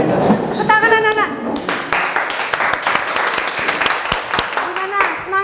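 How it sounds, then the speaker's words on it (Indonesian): Schoolchildren clapping in a classroom, a burst of uneven, close hand claps with children's voices and a teacher's talk mixed in. "Tepuk tangan anak-anak."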